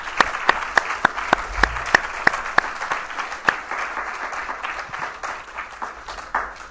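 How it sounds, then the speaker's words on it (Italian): An audience applauds at the end of a lecture on the Edict of Milan given by Professor Giacomo Sametti; sharp individual claps ring out over a steady round of clapping that carries on throughout. "applaudiamo il professor Giacomo Sametti per questa bella sintesi"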